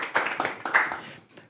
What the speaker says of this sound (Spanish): un aplausito para Next Digital y Sirviendo Código